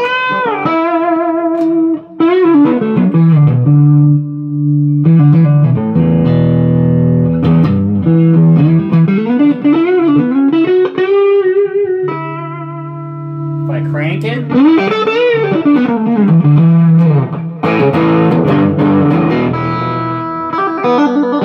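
Electric guitar played through a Marshall JTM1H one-watt tube amp head into a Celestion Greenback speaker, with distorted sustained notes, bends and chords, some reverb, loud and close over about twenty seconds.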